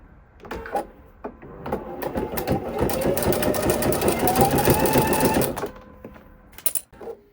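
A sewing machine stitches the corners of a satin-trimmed fleece blanket shut, running in one steady whirring burst of about five seconds, close and fairly loud, with soft handling clicks before and after.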